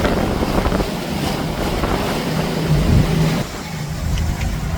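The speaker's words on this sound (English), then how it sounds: "Quite a windy day we've got ahead of us" Wind gusts around a sailing boat at sea, a loud, steady roar and buffeting rumble close to the microphone throughout, with no voices.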